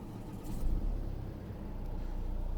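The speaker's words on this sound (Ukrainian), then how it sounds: "Запускається машина рівнесенько, взагалі ніяких помилок е, немає." A 2016 Volvo S60 with a 2.0 diesel engine and six-speed manual gearbox starts up with a brief low cranking burst, then settles into a steady, even idle rumble close by.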